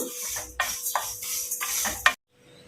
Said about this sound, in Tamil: இப்போ இந்த உளுந்து வந்து நல்லா வறுப்பட்டு கலர் சேஞ்ச் ஆகணும். அது வரைக்கும் நல்லா வறுத்துக்கலாம்.